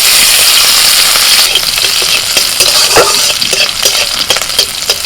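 Nigella seeds, chopped garlic and green chillies fry in hot oil with dried red chillies, making a loud, close, continuous sizzle broken by quick scraping stirs and small crackles.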